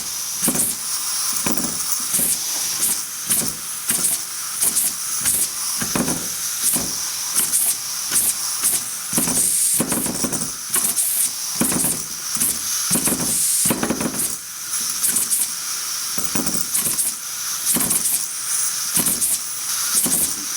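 A small vertical steam engine runs on steam from a homemade boiler, giving a steady loud hiss with a quick rhythmic chuffing pulse throughout.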